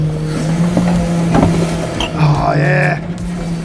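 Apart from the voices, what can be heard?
recycling garbage truck hydraulic hoses working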